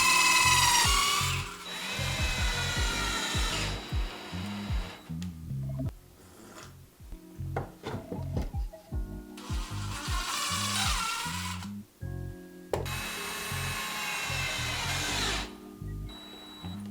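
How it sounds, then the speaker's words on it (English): A power drill driving screws into wood for a shelf whirs in several bursts, speeding up and winding down between pauses, with knocks and handling sounds in the gaps. "You have a lot more control when you use a drill."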